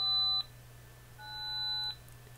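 Two electronic keypad tones from a Google Voice outbound call, each a steady beep lasting about half a second or more, separated by a short pause over a faint low hum, with no talk.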